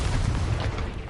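A Confringo spell blast in a video game, a deep rumbling boom that stays loud and sustained for about a second.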